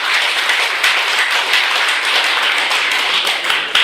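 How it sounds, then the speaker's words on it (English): A group of vice principals in a training session claps hands together on cue, a close, loud burst of rapid overlapping claps that continues without pause. "I will give you 10 marks out of 100 for clapping."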